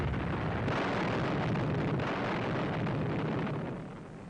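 Continuous rumbling barrage of artillery fire and explosions during the World War II advance across the Rhine, a dense, loud roar of overlapping blasts and bursts that fades slightly at the end.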